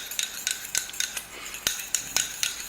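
A spoon clinks and taps against a dish in a kitchen, a series of light, bright metallic knocks at uneven intervals, close by and quiet, with no one speaking.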